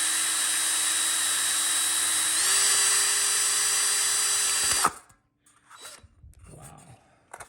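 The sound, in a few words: drill putting holes in the rim of a penny stove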